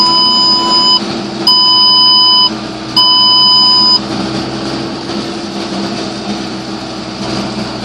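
Tractor cab electronics for an Amazone ZA-TS 4200 Hydro fertilizer spreader with GPS section switching give three steady beeps over the first four seconds, above a constant engine drone that continues alone afterward.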